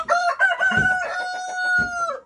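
A rooster crows once, a long drawn-out cock-a-doodle-doo up close, loud and clear with no talking.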